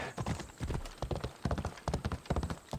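Galloping horse hooves in the video game Assassin's Creed Odyssey, a fast steady clip-clop rhythm running throughout, loud and close with no talk over it.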